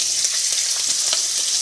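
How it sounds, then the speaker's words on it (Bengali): Finely cut potatoes fry in hot oil with cumin in a pan, a steady, bright, close sizzle that continues evenly without a break. "আলুটা ফ্রাই করব"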